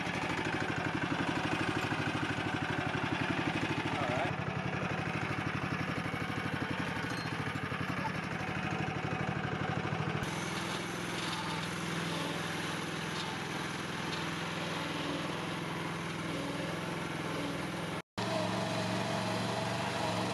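A homemade articulating 4x4 dump truck powered by a 420cc Predator engine drives along, its small single-cylinder engine droning steadily and fairly faint, with a shift in tone partway through.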